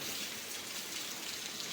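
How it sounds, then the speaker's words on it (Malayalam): Dense, steady rain hiss fills the space evenly, soft and constant with no voices or other distinct sounds. "പുറത്ത് നല്ല മഴയുണ്ട് കേട്ടോ ചെറിയ ഇടിയും ഡുണ്ടുണ്ടും ഒക്കെ ഉണ്ട്"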